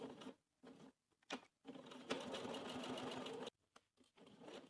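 A sewing machine stitches a bib for children's trousers in short bursts, then settles into one longer steady run before stopping. The sound is quiet and close, with brief pauses between the runs.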